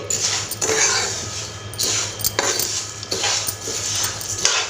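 Lentils are stirred and roasted in a metal pan over a slow flame for a spice powder, giving loud, close scraping sweeps of a utensil against the pan at a slow, steady rhythm.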